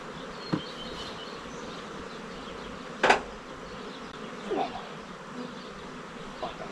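Honeybees hum in a low, steady background drone during spring honey extraction, with a few sharp knocks and clicks of handling cutting in now and then, no talk.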